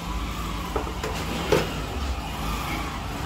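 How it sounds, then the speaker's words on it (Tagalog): A motorized tricycle drives past on a street, a steady low engine drone with a few brief rattling clicks and a slight swell near the middle, with no talking. "Ang ingay naman ng tricycle na to."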